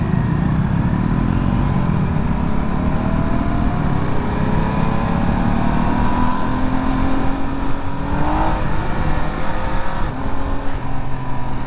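A Triumph Trident 800 motorcycle is being ridden, its engine loud and continuous with rising revs and gear changes heard throughout.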